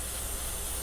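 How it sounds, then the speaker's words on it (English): Carb cleaner sprayed from an aerosol can onto a clean rag during Toyota 1ZZ-FE valve cover work, one steady close hiss lasting under a second. "I'll spray some carb cleaner on a clean rag"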